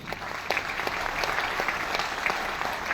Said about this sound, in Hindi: मैं चाहूंगा उनके लिए जोरदार ताली।